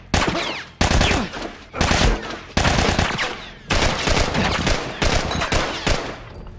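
Loud, close bursts of rapid gunfire in The Last of Us video game, coming in repeated volleys separated by brief pauses and with no talk over them.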